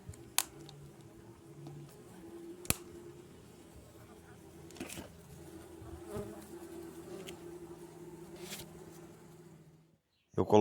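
Mandaçaia stingless bees buzz around their hive in winter as a pollen treat is set in, a close, continuous drone with occasional louder passes and faint handling knocks.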